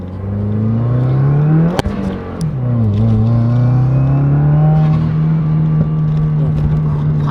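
Turbocharged Subaru WRX from 2015 or later accelerating hard from inside the car, engine note climbing steadily, dipping briefly at a shift, then rising again under boost, loud and continuous with a sharp click near the start.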